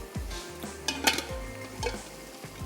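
A metal kadhai clanks and scrapes against a stovetop, a few separate knocks and rattles of cookware being set down and moved, close and fairly quiet with no talk.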